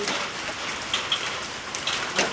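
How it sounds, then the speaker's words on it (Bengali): Hail falls steadily in a hailstorm, a dense, even patter of icy stones striking the ground with a few sharper nearby hits standing out from the continuous wash. "একটু হারে বৃষ্টি নেই বললেই চলে, শুধু শিলাবৃষ্টি, মানে চাদরের মতো বিছিয়ে যাচ্ছে আস্তে আস্তে"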